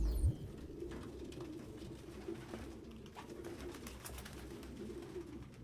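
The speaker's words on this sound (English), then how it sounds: "No human could live with all these fucking pigeons." Pigeons coo steadily in a cramped apartment in the video game Detroit: Become Human, a continuous low warbling chorus from many birds, close and fairly soft, with occasional rustles and no talking.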